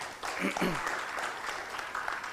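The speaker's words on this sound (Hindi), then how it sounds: "तो हम लोग चेयरमैन साहब के लिए और रूपा जी के लिए एक जोर से ताली बजा सकते हैं।" An audience applauds at the inaugural session of an organisation's anniversary event, a steady moderate clapping with a brief voice near the start.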